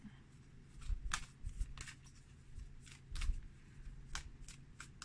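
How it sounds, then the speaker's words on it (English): Tarot cards shuffled from a deck in a quiet room, a series of soft riffling flicks and papery snaps in irregular bursts, close and fairly faint. "Let's pull a couple cards from this deck"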